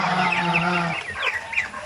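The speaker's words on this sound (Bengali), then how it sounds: "টাইগার মুরগির যেটা ছোটোখাটো খামার দেখতেছেন" Tiger breed chickens on a small farm cluck and chatter continuously at close range, a steady layered flock murmur with a few sharper calls toward the end.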